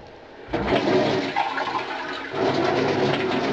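Water pours into a lid's sealing groove in a steady, close splashing rush that begins abruptly after a moment of quiet and continues without a break.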